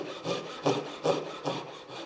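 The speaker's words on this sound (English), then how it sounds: "Japanese saws, as you all know, they're all cut on the pull stroke." Japanese pull saw cutting through pine, a close, steady rasp that swells on each pull stroke, about five rhythmic strokes with no talking.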